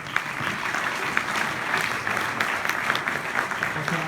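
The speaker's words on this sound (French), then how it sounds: "Vous pouvez l'applaudir." Audience applause at a regional innovation awards ceremony in Mayenne, France, steady and dense for the full length, with a broad crackle of many hands clapping and no voices over it.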